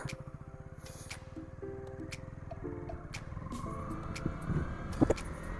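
A 2025 KTM Duke 200 BS6 motorcycle cranks with a rapid chugging rhythm and catches, settling into a steady idle that rises slightly toward the end; close, moderate level, no talking.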